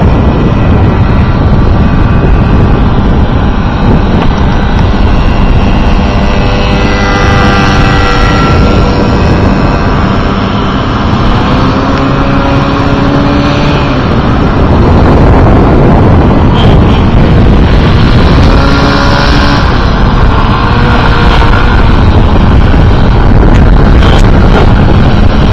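A loud, continuous buzzing whine of a small model airplane engine, a GMP competitor, rising and falling in pitch as it passes, with heavy wind noise throughout on a windy day.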